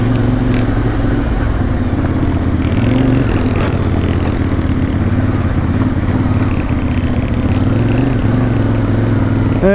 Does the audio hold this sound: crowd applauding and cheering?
no